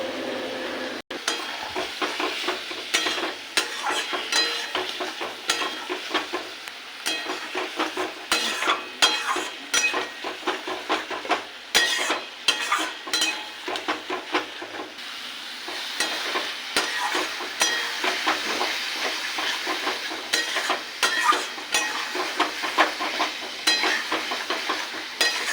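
Spice paste with whisked yogurt being sautéed and stirred in a pan for a tomato rohu fish curry, a steady sizzle with frequent scraping and clinking of a utensil, close and continuous with no talking.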